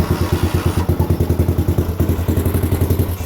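A 1984 200X three-wheeler's small engine runs steadily after a kick-start, a loud close thumping putter with a quick even beat that shifts slightly in pace partway through.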